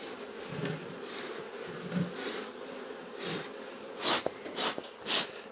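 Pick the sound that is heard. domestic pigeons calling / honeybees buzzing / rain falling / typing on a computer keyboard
honeybees buzzing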